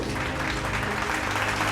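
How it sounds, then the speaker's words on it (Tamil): An audience at a Sunday Tamil church service applauds, a short, continuous wash of many hands clapping at once, fairly loud and even throughout. "கைத்தட்டுங்க ஒரு அவருக்கு"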